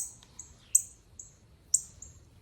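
A pair of cardinals give short, sharp chirping calls outdoors beneath a dogwood tree, several quick separate notes spaced apart, faint against a quiet background.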